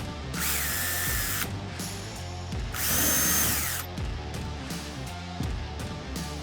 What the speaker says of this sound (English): Pilot drill my holes.